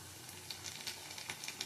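Ginger garlic paste hits hot oil in a pan, giving a quiet, steady sizzle with small crackling pops scattered through it.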